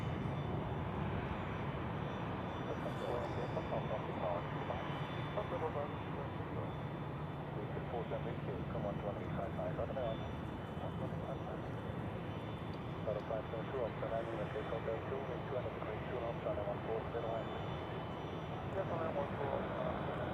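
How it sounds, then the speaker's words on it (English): An EasyJet Airbus A319 at Zurich Airport gives a steady, broad jet engine roar that holds for the whole stretch, with a voice talking over it. "here we have an EasyJet A319"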